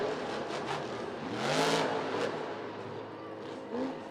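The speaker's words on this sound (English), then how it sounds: "You hear that throttle turning up?" A monster truck engine revs up to a loud roar in the middle, then settles back to a steady drone, heard at a distance amid crowd noise in a stadium.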